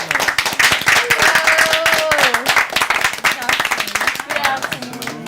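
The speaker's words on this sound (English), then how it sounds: "Round of applause" Energetic clapping from a small group, quick and uneven, mixed with excited voices and cheering over it.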